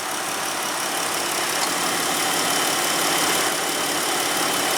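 The 3.6 L V6 of a 2015 Chrysler Town and Country minivan running smoothly, a loud, even, unbroken engine hum with no change in pitch.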